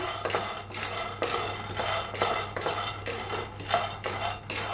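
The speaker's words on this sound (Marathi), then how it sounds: "शेंगदाण पहिलं भाजून घेऊया चांगले शेंगदाण भाजून घेऊया खरपूस" Peanuts dry-roast in a pan while a spoon stirs them, producing repeated scraping and rattling strokes at an uneven rhythm, close and moderately loud, with a faint low hum beneath and no speech.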